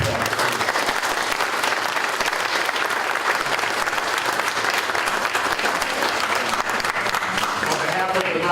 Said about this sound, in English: let's just give our panel and our moderator a round of applause